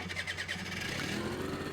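A small Honda Squash 50cc motorcycle engine turning over on electric start, a short, close, steady buzzing churn with a fluttering pulse, heard alone.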